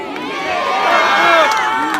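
Crowd cheering and shouting at a Korean political rally for party leader Lee Jae-myung in Paju and Uijeongbu, a steady loud roar of many voices with high excited shouts rising and holding throughout.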